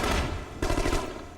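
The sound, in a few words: submachine gun fire in video game The Conduit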